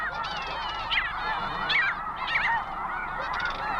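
Snow geese honk continuously at an Arctic nesting colony, a dense chorus of overlapping nasal calls with a few nearer honks standing out over steady background noise.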